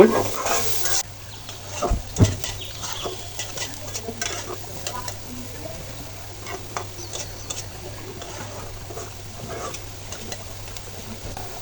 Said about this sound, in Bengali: প্রথমে গাজরগুলো ভেজে নিচ্ছি